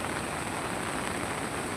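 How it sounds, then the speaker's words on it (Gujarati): Rain falling steadily on surfaces in a village, a continuous even hiss with no other sounds over it. "વરસાદ ચાલુ"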